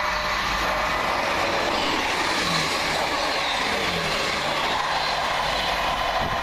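Arriva Trains Wales passenger train bound from Holyhead to Birmingham International running past at steady speed, a continuous loud broadband rumble and rush of wheels and engine through the whole stretch, with no talking.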